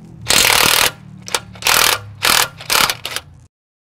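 A 21 mm socket on a 2020 Silverado 1500 Z71's tie rod nut, breaking it loose: several loud, close bursts of rapid rattling mechanical hammering with short pauses, then sudden silence.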